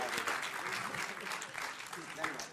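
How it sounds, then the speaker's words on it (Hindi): Studio audience applause for the winner at the close of a Hindi political TV debate show, a steady broadband clapping wash across the whole moment, fairly loud, with a host's voice talking over it. "तालियों के साथ आज के बहस बाजीगर अनुराग भदौरिया के लिए ताली बजाइए।"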